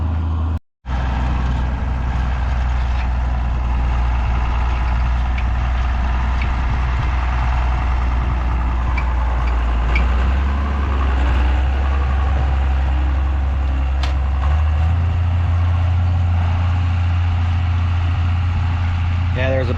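A steady low tractor engine idles throughout with a furrower hooked up, a constant rumbling drone at close range, with a person talking over it now and then.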